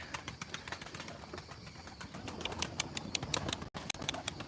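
Tumbler pigeons in a loft feeding their young, soft cooing and rustling wing and feather movement mixed with rapid light clicking and pecking sounds, close and fairly faint with no voices heard.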